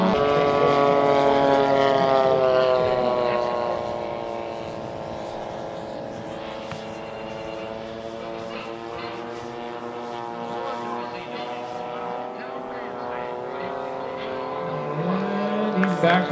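Big radio-controlled B-17 model bomber at a 2011 SCCMAS airshow, its multiple engines droning steadily as it makes a short approach and lands, the pitch sliding downward and rising again at the end, with an announcer talking over it.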